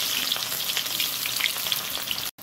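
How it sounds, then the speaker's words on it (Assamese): Finely chopped onions fry in hot oil with a loud, continuous sizzle and crackle, cut off by a brief silence near the end. "মিহিকৈ কাটি লৈছোঁ পিঁয়াজখিনি তেলত দি দিলোঁ"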